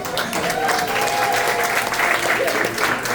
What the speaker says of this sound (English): Give her a nice round of applause, everybody.